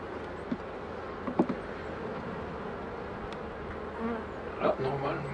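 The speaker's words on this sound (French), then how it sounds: "Il y a plein d'abeilles avec du pollen sur les pattes." Honey bees buzzing at an open hive during a spring inspection, a steady close hum of many bees with occasional louder passes and light handling sounds, no talk.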